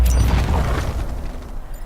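Jets make bombing-run explosions in the Into the Breach (2018) video game, a loud, deep boom with a heavy low rumble that decays over about two seconds.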